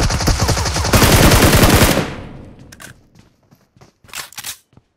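Rapid automatic gunfire from a weapon in the battle royale game PUBG/BGMI bursts loudly for about two seconds, then fades into scattered faint clicks and a few short later shots.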